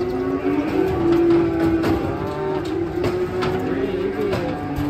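A large bull being unloaded from a truck gives a long, low, continuous moo-like bellow that holds steady through the whole stretch, loud and close, over a busy noisy background.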